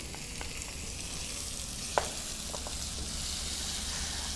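Chopped tomato and garlic frying in a pan while being stirred, a steady close sizzle with an occasional scrape or tap of the utensil.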